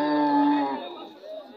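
A cow at a busy cattle market lets out one loud, drawn-out moo that fades after under a second, leaving a low murmur of market background.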